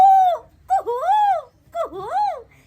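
A voice imitates a koel's call, singing drawn-out rising and falling whistled "kuhu" notes three times in a row, close and clear, with short pauses between them.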